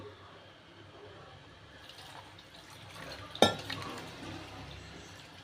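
Water is poured into chopped mango seasoned with salt and spices before pressure cooking. A soft, steady trickle runs for a few seconds, with one sharp clink of a vessel partway through.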